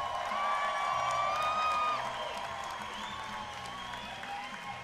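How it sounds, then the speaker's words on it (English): A crowd applauds at a kickboxing world title event in Canada, with loud clapping at first that eases to a softer sustained wash, while tonal arena music or whistles ring over it. "Big round of applause for him, ladies and gentlemen"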